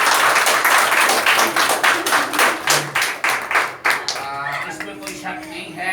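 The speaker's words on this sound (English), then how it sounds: "इनके लिए special clapping करें." An audience at an Independence Day and birthday celebration claps after a national anthem performance, a loud, dense run of hand claps that thins and fades toward the end.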